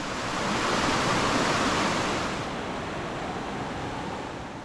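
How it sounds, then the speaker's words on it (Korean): A waterfall with modest flow tumbles down a forested mountain slope in a valley gorge, giving a steady, loud, broadband rush of water that eases slightly toward the end, with no voices. "산 비탈길을 따라 아름답게 흐르는 신비로운 폭포가 등장했습니다"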